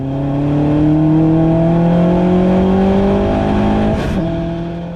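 A race car engine drones loud and close through a club race at Silverstone GP, holding a strained high rev that climbs gradually before a quick lift-off and gear change near the end, with no voices.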